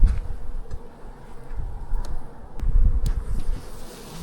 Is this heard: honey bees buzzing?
yes